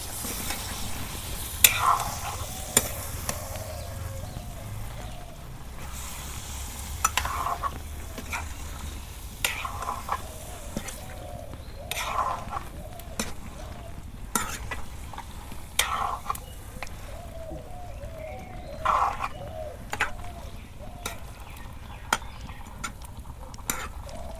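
Beef curry frying and being stirred in a wok for Eid, with repeated scraping strokes of a spoon against the pan over a steady low sizzle, the clatter coming in irregular bursts close by.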